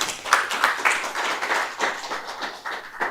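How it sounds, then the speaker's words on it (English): Audience clapping at a research workshop, a dense patter of many hands, moderately loud and steady throughout, no talk over it. "Please give him a round of applause."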